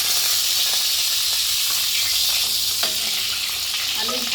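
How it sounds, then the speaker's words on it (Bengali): Potatoes frying in hot oil together with fried onions, a steady close hiss and sizzle running throughout without talk. "এর সঙ্গে আলুটাও ভেজে নিলাম একসঙ্গে"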